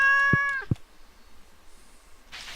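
Two short, clear meows from a cat in the farming video game Stardew Valley, close and fairly loud, the first slightly longer, followed by near silence and faint game ambience.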